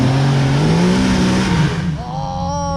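A car revs hard to warm its tires while trying to wheel off-road, with a loud, close engine roar rising and falling, then a higher whining rev toward the end.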